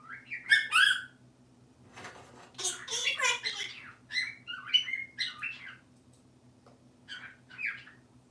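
A pet cockatoo squawks and chirps in bursts of bright, shrill calls and short tweets spread over several seconds, close by, with a steady low hum underneath and no speech.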